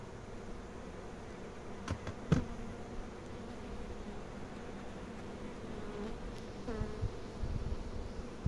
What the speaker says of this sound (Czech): že Emilku už ty včely nějak nebaví